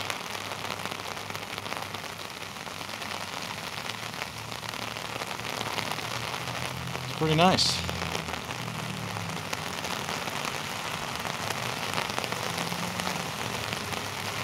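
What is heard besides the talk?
heavy rain on a city street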